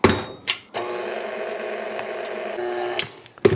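A stand mixer kneading bread dough with a steady mechanical whir, framed by clunks at the start and end, close and fairly loud.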